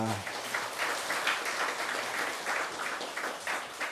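A church congregation applauds together during a Korean Sunday worship service, steady dense clapping filling the room at moderate level for a few seconds, with faint voices mixed underneath.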